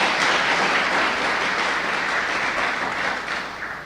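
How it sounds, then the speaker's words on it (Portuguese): A church congregation applauding during a sermon, a loud, dense and sustained wash of clapping that holds steady before easing slightly at the end. "Pode aplaudir a Jesus"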